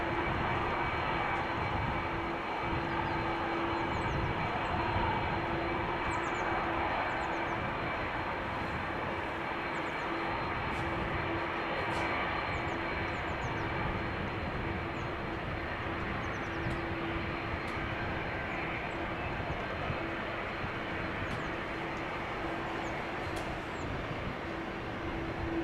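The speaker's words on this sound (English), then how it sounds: "KLM flight 767 arriving from Bonaire. That is another A330-200." A KLM Airbus A330-200 arrives at Amsterdam Schiphol Airport, its engines producing a steady, broad roar with a constant low hum throughout, heard at a distance and without any voices.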